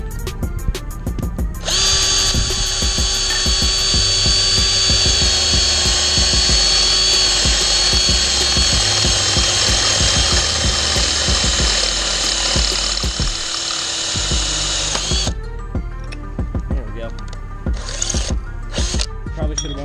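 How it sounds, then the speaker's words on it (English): Power drill with a dull bit boring a hole for custom mini bike foot pegs, a loud sustained whine with a strained, grinding edge that holds steady for over ten seconds, framed by shorter clicks and spins. "That is a dull drill bit."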